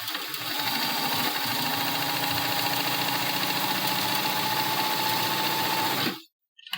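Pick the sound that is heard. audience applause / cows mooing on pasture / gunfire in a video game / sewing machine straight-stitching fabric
sewing machine straight-stitching fabric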